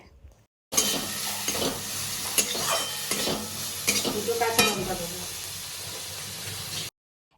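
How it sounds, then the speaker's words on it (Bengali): Stirring prawn biryani masala with chopped whole tomato in a frying pan: a steady close sizzle with repeated scraping strokes of the spoon, under quiet speech. "একটা গোটা টমেটো কেটে সেই টমেটোটা দিয়ে আবার ভালোভাবে নেড়ে নিচ্ছে"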